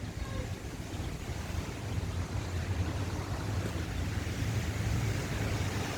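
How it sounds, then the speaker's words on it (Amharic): Heavy rain and floodwater in Jeddah make a steady, dense rushing roar with a low rumble, loud and unbroken throughout, with no voices. "እና እንግዲህ የዛሬው ውሃና የዛሬው የጅዳ ዝናብ ይሄን ይመስላል እላቸዋለሁ።"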